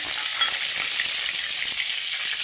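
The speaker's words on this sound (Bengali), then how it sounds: "এবার তেল দিয়ে দিচ্ছি চিংড়ি মাছটা ভাজার জন্য" Oil heating in a karahi on a gas stove before prawns go in, giving a steady, even crackling sizzle close by throughout, with no voices.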